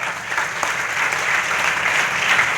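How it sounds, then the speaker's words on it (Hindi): A meeting audience claps hard and steadily, a dense, loud wash of applause that holds at an even level throughout. "एक बार उनके लिए जोरदार तालियां।"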